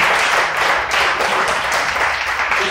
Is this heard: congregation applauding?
yes